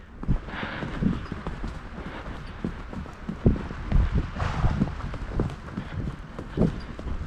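Horse hooves clip-clop steadily on a winter trail ride, with uneven, muffled thuds from several strides close by. Light wind rustles in the background, and there is no clear talk.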